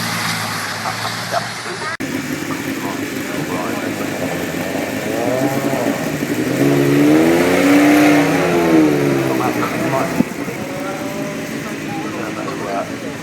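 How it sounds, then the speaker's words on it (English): A 1.4 litre turbocharged racing car engine roars past on tarmac at the Goodwood Festival of Speed, its pitch rising and falling as it passes close by, with steady loud engine drone before and after. "Race car underway"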